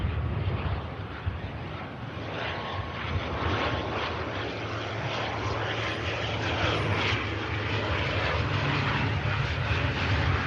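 An ATR turboprop aircraft comes in to land at Manchester Airport with a steady, broad engine and propeller drone. The sound holds at a fairly constant level throughout, with a low hum underneath and no voices.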